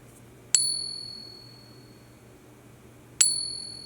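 A 100 oz silver bullion round rings out twice when struck, each hit a clear high-pitched tone that sustains and slowly fades in an otherwise quiet room.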